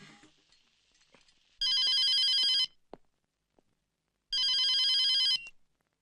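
A telephone bell rings loudly and close by in two long, steady bursts separated by a pause of a few seconds, with faint thumps and room noise between the rings and no talking.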